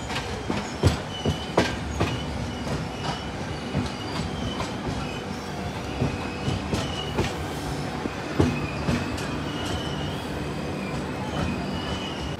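The Mandvi Express passenger train travels on rails, a loud continuous rumble with rhythmic clickety-clack wheel beats and occasional squeals, heard from inside a carriage.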